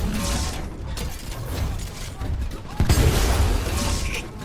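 The Scorch Titan's launcher fires and its traps go off in the game Titanfall 2, a dense run of mechanical thumps, booms and rattling impacts that continues without a break.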